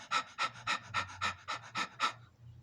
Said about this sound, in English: That's called rapid breathing in a dog.